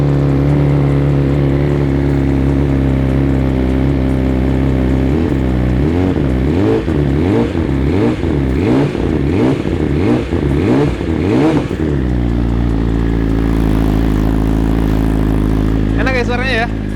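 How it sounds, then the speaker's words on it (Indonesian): BMW S 1000 RR 2023 inline four-cylinder sport bike engine idling, then blipped through a series of sharp, rhythmic throttle revs before settling back to a steady idle, loud and close, with a voice speaking briefly near the end. "Enak ya suaranya ya. Khas 4 silinder segaris."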